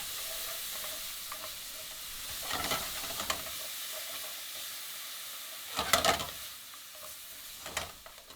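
Onion and garlic sizzle with a pinch of salt in a hot pan, a steady frying hiss broken by a few louder bursts as the food is stirred.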